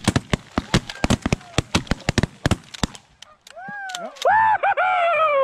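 Rapid volley of shotgun blasts from several hunters firing at geese on a goose hunt, a dozen sharp loud bangs in quick succession, followed by honking geese calls close by.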